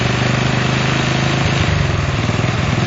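A Honda CL70 motorcycle engine runs steadily at idle, a loud, close, even droning putter with no change over the few seconds and no talking.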